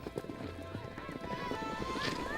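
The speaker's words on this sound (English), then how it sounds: "Outside, we watch the kids round up some of their horses." Horses ridden by children on open range, hooves clip-clopping in an uneven rhythm at moderate distance, with brief talk in the background.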